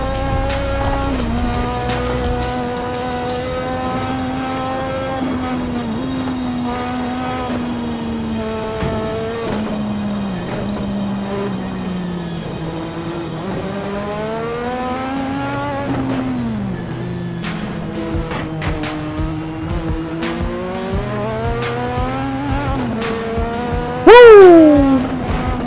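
A Lotus 98T turbo Formula One car races in the Assetto Corsa video game, its loud, continuous engine whine rising and falling through gear changes and throttle lifts, with turbo wastegate chatter and a sharp tire squeal near the end.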